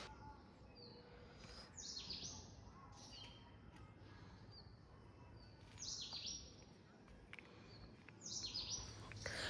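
Small birds chirp and tweet outdoors on a mild winter morning in Chhattisgarh, India, bright repeated calls in short bursts over quiet background hiss, fairly faint and distant.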